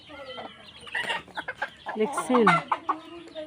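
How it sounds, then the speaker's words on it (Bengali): Farmyard chickens, kept alongside ducks, clucking in short irregular bursts nearby, several calls overlapping around a brief spoken word. "আমি হাঁস পালি মুরগি পালি"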